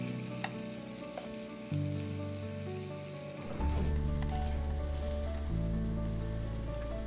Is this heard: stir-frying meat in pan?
yes